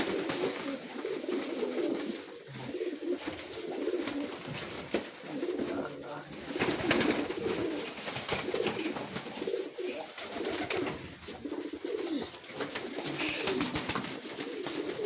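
Domestic pigeons coo steadily and close by through most of the recording, with soft overlapping calls over a dense background of flock noise. A faint human murmur is heard now and then.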